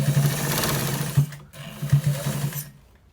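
A sewing machine stitching lace onto a trouser waistband runs in a loud, close, steady whir with rhythmic knocking, pausing briefly mid-way before a second burst that cuts off abruptly.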